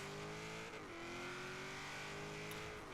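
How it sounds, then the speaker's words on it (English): A 1950s Corvette engine in Forza Horizon 3 revs steadily, its engine tone rising and holding loud and close for the full stretch with no talking over it. "We're going to rev it up."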